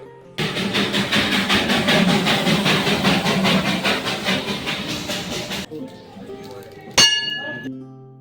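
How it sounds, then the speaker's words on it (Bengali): A toy train in Darjeeling clatters past nearby in a fast, rhythmic chugging run, then cuts off, followed by a sharp metallic clink that rings briefly. "তো সামনে দিয়ে চলে গেল টয় ট্রেন"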